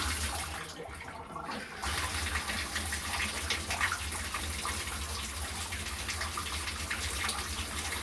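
Hot water gushes steadily from a plumbing tap fed by a newly installed 3 hp well pump on a 380-foot well, a constant rushing flow that briefly drops out before resuming strongly.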